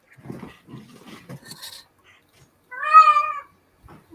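A single clear cat meow, drawn out and fairly close, following a few soft murmured sounds and quiet pauses.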